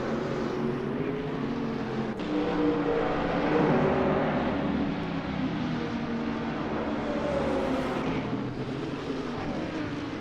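GT3 race car engines in an AI racing game at Maple Valley, a sustained blended roar of several cars droning and shifting pitch as they accelerate through turns, with no talk.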